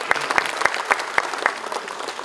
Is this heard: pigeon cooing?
no